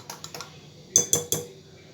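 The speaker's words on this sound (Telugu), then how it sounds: "ఇది మరొకసారి మంచిగా కలిపేసుకోండి." Brinjal bajji batter stirred in a bowl, with a few light clinks and scrapes, three soft taps followed by three louder knocks of a spoon against the bowl, close and alone.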